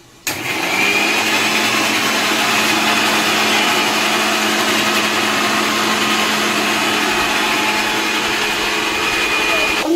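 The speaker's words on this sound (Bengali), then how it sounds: "এটাকে আমি পেস্ট করে নিব এখন মিক্সিতে" An electric mixer grinder whirs steadily as it grinds mustard seeds into a paste, loud and close, running without a break from its start-up a moment in until the end.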